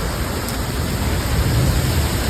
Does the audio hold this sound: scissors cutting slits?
no